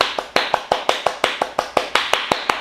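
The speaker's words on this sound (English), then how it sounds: "And clap your hands." One person claps their hands in a steady, even rhythm during seated chair yoga, about a dozen crisp, close claps in a row with no talking over them.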